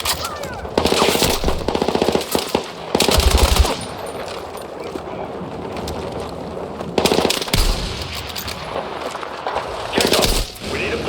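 Gunfire in the video game Battlefield 6 comes as loud, dense bursts of automatic fire, with short pauses between volleys and a quieter stretch of background rumble in the middle.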